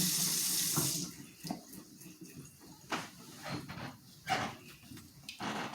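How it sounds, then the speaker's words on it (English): Water running from a kitchen tap into a sink during hand washing while baking, a quiet rushing stream broken by splashes and uneven surges as the hands move under the flow. "always remember to wash your hands"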